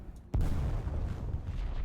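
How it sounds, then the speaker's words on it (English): A single deep boom bursts out suddenly in the video game War Thunder, then a heavy rumbling roar lingers and rolls on for over a second. "That was a big explosion."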